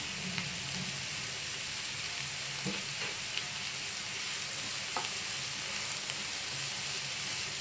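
Sliced onions sizzle steadily with salt in a hot pan over a medium flame, a continuous close frying crackle broken by a few sharp scrapes and clicks of a stirring spoon, with no voices.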